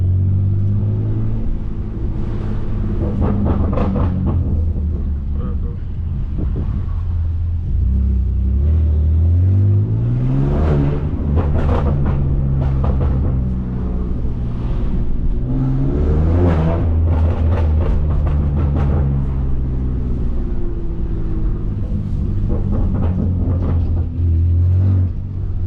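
A straight-piped, 650HP BMW F80 M3 with an axle-back exhaust revs loudly and close, its deep engine note rising and falling in repeated pulls over a steady rumble, with no talking.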